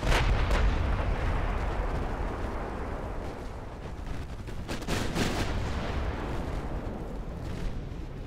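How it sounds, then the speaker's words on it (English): A torpedo strikes a warship during a naval battle in Ultimate Admiral Dreadnoughts, producing heavy booming blasts and thudding artillery-like bursts over continuous rumbling noise, loud and close. "Took a torpedo."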